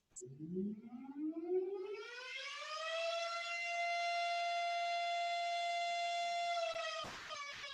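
A siren winds up from a low growl to a steady high wail, holding loud and sustained for several seconds before a brief knock near the end.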